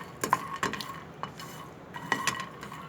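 Phool makhana (fox nuts) dry roasted in a pan without oil, stirred with a utensil that scrapes and clinks against the metal in a few irregular strokes over a soft background, with no talking.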